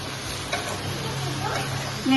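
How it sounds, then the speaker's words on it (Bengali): Onion paste being stirred into hot oil, a steady close sizzle with a few scraping stirs and a brief louder hiss near the end. "ভালো করে তেলের সঙ্গে মিশিয়ে নিয়ে এটা দিয়ে দেবো বেটে রাখা পেঁয়াজ"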